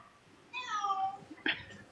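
A cat meows once in a drawn-out, wavering cry, fairly close and clear, followed by a short sharper sound; no talk over it.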